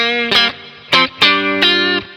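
A clean electric guitar tone from the Archetype: Misha Mansoor amp plugin with chorus switched off, several bright, sustained chords ringing out in turn, close and clear with no voices.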